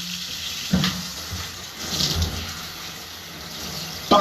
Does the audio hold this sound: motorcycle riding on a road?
no